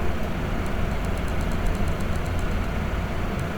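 Car engines roar in a racing video game, forming a loud, constant droning whine with a faint, regular ticking running above it. There is no speech.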